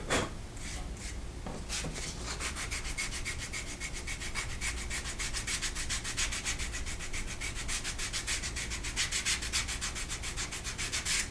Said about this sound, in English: Just clean it up with some sandpaper, get rid of some excess glue